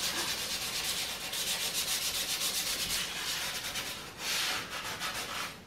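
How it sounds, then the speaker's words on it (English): Hand sanding stair risers before a mural is painted on them: a close, continuous rasping rub in rhythmic back-and-forth strokes, briefly pausing before resuming, with no talking. "Sanding time now."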